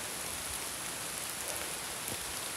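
Steady rain falls and patters on surfaces on a walk through Vintgar Gorge in Slovenia, an even close hiss that never lets up, with no voices.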